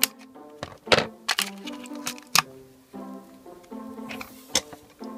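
Scissors snip open plastic toy packaging for a pair of Littlest Pet Shop figures, a string of sharp close cracks and clicks with soft rustling and crinkling in between, fairly quiet and with no speech.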